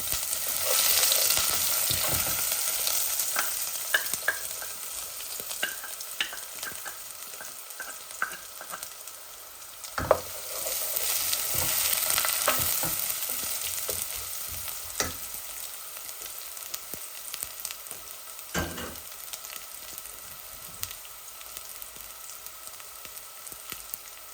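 Two large garlic cloves fry in hot oil in a reddened pot, a steady bright sizzle with scattered crackles and occasional sharp pops, close and continuous, with no talk.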